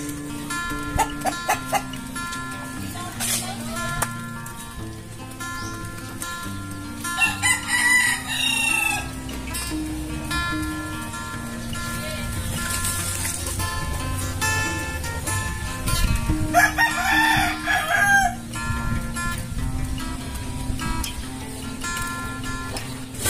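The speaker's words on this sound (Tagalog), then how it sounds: "Manok ng kapitbahay. Nahilig na dito." A rooster crows loudly twice over a busy backdrop of clucking chickens and other fowl, with scattered clatter nearby.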